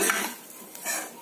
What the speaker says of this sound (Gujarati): ધીમી આંચે બધાને ધીરે ધીરે શેકીશું અને મિક્સ કરતા રહીશું